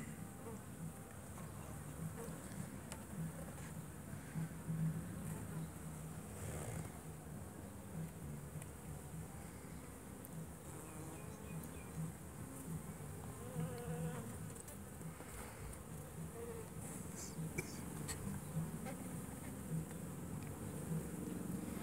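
Honey bees buzz steadily around a mini mating nucleus hive outdoors, a dense continuous insect drone close by with faint individual wingbeats passing through, no talk.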